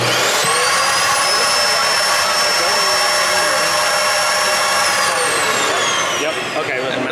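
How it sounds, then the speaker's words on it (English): A vacuum runs loud and steady at a radio control expo, a broad roar topped by a high whine that holds and then falls away near the end, with voices faint beneath it. "I'm gonna hit the vacuum."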